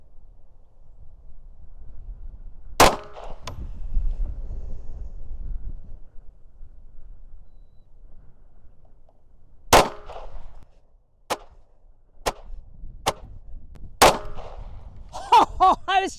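Rifle shots fired offhand at a steel target with a paster: six sharp, loud cracks, one early, then a cluster spaced about a second apart, with quiet outdoor air between and a brief voice at the end.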